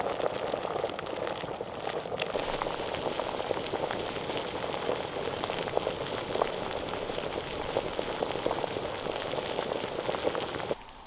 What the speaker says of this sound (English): It has been boiling for at least like 4 or 5 minutes now.